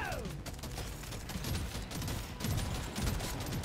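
Rapid shotgun fire in Deep Rock Galactic: Survivor, a fast crackling stream of blasts with a mechanical clatter running continuously and fairly quietly.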